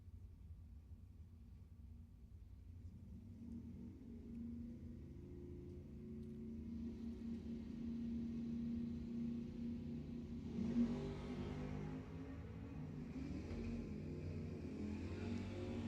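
Drag racing cars, a Mercury Marauder against a Camaro, rumble at the line at Lebanon Valley Dragway, the engine drone building and swelling over about fifteen seconds, heard at a moderate distance.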